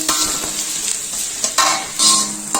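Onion, carrot and capsicum pieces fry in a pan for chicken fried rice, sizzling steadily while a utensil stirs and scrapes them in brief bursts, close and clear with no talk.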